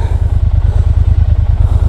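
A Triumph Bonneville T120 motorcycle engine idling close by, a loud, steady pulsing thump with an even, rapid beat and no voices.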